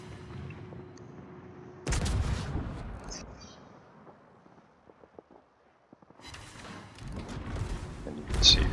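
Naval guns firing in a warship video game, heavy booming salvos that open abruptly and roll on, then a near-silent lull before another burst of blasts, with a voice speaking at the start.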